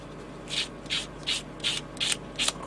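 A plastic part from an Airfix 1:48 Supacat Jackal model kit is sanded in six even, rhythmic rubbing strokes, each a short gritty scrape, close up and quiet apart from the strokes.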